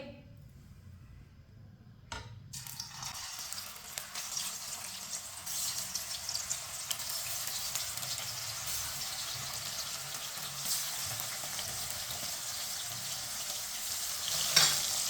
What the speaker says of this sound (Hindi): चिकन को 5 मिनट के लिए हम फ्राई कर लेंगे।